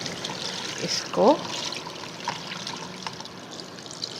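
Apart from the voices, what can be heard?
water poured over raw mangoes in a strainer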